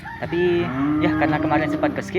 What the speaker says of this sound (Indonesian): ini suara sapi yang ada di belakang.